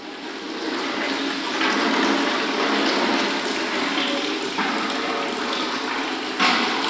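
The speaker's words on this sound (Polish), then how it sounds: "Wylewa na włosy wodę z wiadra." A loud, sustained rush of water poured from a bucket onto hair over a bowl, close and continuous, with a brief surge near the end.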